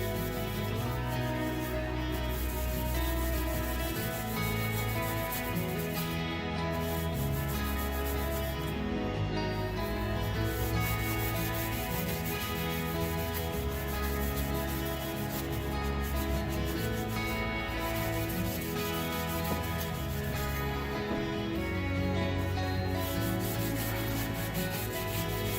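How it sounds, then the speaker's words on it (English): Steady, continuous scrubbing and rubbing as fingernail polish is scrubbed off a metal competition chopper part with acetone, a dense textured rasp that never lets up, with no talking. "scrub this fingernail polish off and see where we're at"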